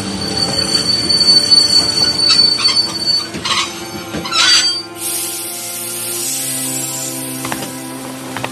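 Train wheels squeal loudly and steadily against the rails as a train brakes to a stop, a sustained shrill screech with shifting tones over low rumbling, no voices.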